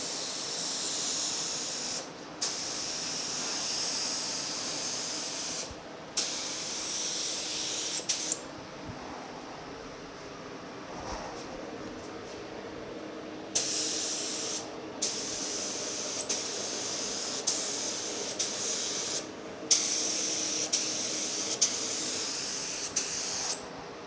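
A spray gun hisses in long, steady bursts while priming the firewall and frame of a 1965 Malibu SS, with brief gaps between passes and a quieter stretch midway.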